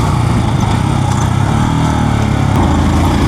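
A Royal Enfield Scram 440 motorcycle engine runs loud and close, a steady dense rumble with an even low throb throughout, heard alone without voices.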